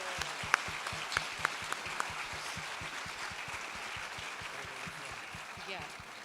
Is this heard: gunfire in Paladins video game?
no